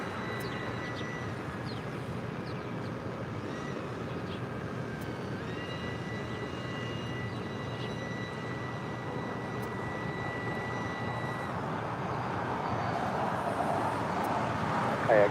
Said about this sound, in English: Emirates A380 now rolling down to 4 left.